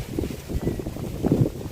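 Wind gusts buffet the microphone outdoors in a vegetable garden, a low rumbling roar rising and falling in short bursts, with no talking.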